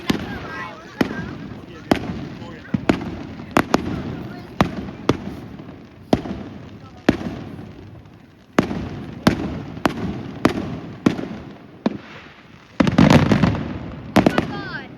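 Fireworks exploding nearby in a rapid, irregular series of loud sharp bangs and crackles, with a dense burst of crackling near the end and faint background voices.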